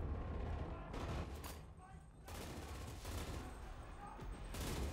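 An MG42 machine gun in the video game Enlisted fires long, dense bursts that pause briefly and resume, loud and close, with someone talking over the gunfire.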